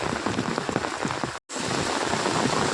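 Heavy rain pours steadily on a village, a dense close hiss with scattered drop impacts, broken by a brief moment of silence midway before the downpour continues just as loud.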